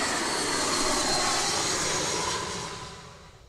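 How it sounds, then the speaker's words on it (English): A Jetstar jet airliner out of Tullamarine roars past at Gold Coast Airport, a broad, loud engine rush that holds steady and then fades as it moves away. "There's the Jetstar from Tullamarine."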